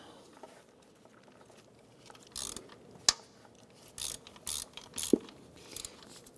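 A ratchet tightens the bolt on a power steering bracket of a 2006-2013 Chevrolet Impala during a water pump replacement, giving several short clicking bursts with brief pauses, close and moderately loud.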